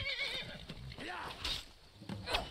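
The horse Shadowmere whinnies in Skyrim, a short, close, wavering neigh heard alongside clopping hooves and combat noise, with someone talking over it.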